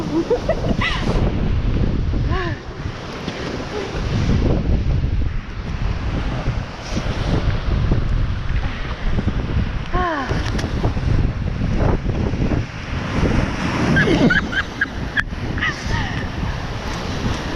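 Ocean waves surge and wash against a rocky coast on a fast-rising tide, a continuous loud roar of surf with gusting wind buffeting the microphone and brief voices exclaiming over it.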